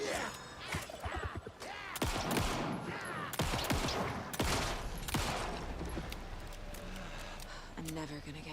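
Bursts of gunfire from the video game Alan Wake 2, several sharp shots and a rapid volley scattered through the clip, heard under someone talking.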